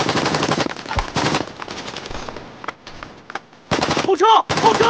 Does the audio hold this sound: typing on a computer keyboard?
no